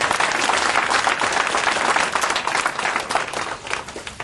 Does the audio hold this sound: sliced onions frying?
no